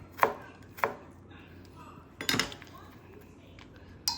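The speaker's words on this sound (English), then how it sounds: "So just kind of line them up and then just cut it all up." A knife chops through cabbage on a cutting board while making kimchi, with a few separate sharp thuds spaced out over a few seconds, each crisp and close, plus a faint clink near the end.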